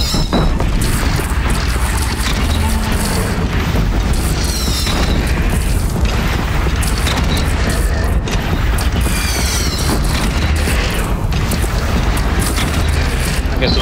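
Cannon bombardment explosions during a boss fight in the video game Horizon Zero Dawn, loud booms and crashes recurring over a constant roar of battle noise, with mechanical clanks and voices mixed in throughout.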